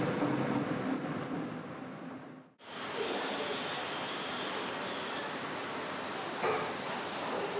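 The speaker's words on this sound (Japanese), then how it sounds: "再び列車に乗り、" A train in Taiwan rumbles with a steady, close, broadband roar. It briefly drops almost to silence partway through, then surges back at full level and keeps going, with no voices.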